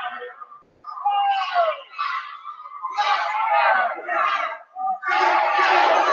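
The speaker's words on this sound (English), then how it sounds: "The crowd chanting, "Let's go Tribe."" A basketball crowd at a William & Mary vs. JMU game chants "Let's go Tribe" in loud, rhythmic bursts, many voices shouting together with brief gaps between phrases.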